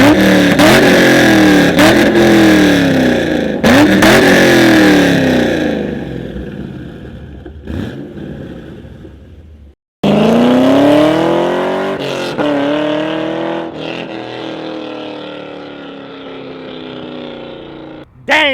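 A 2013 Chevrolet Camaro SS V8 revs loudly from close behind, with repeated rising and falling throttle blips, a brief cut to silence, then another long, strong rev that slowly settles into a steady rumble.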